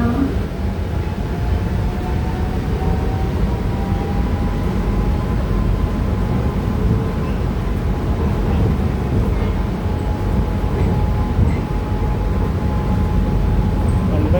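Steady rumbling ride on Bangkok's Pink Line monorail train, a constant low drone with a faint tonal whine running throughout, no breaks.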